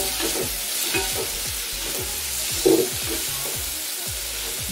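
Green pepper frying in a pan for a home-cooked dish, a constant loud sizzle with repeated scraping strokes of stirring, no talking.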